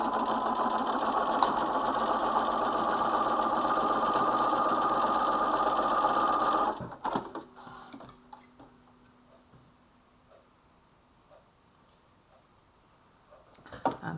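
A sewing machine runs steadily while stitching a quarter-inch seam along the front edge of a coat, a loud continuous whir for about seven seconds that then stops, leaving near-silence with a few faint handling clicks.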